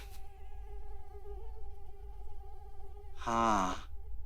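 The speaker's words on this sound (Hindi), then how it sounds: "मच्छर।" A mosquito whines in a brief, loud buzz near the ear about three seconds in, after a steady low hum in a quiet room at night despite burning incense sticks.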